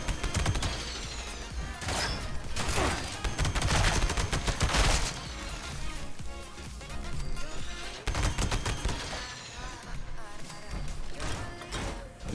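Rapid bursts of gunfire from a Pepper Shaker in Fallout 76 crash out loud and close, repeated shots clustering into fusillades with brief gaps, and mechanical clanks between volleys.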